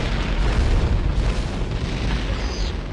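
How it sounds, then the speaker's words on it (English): Explosions in the video game Turok 2 while the player takes damage: a dense, continuous low booming roar with crackling noise, loud and sustained across the whole stretch. "just a bunch of explosions going on, and you're taking damage"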